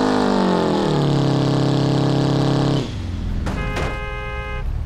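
A turbocharged car engine in BeamNG.drive revs hard and holds high while warming the tyres, then drops abruptly to a rough lower idle with a brief whine, loud and close.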